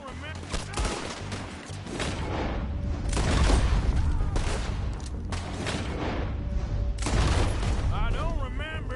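Rapid gunfire in Red Dead Redemption, loud bursts of shots cracking in quick clusters with brief gaps between volleys, close and sharp, with game voices in the mix.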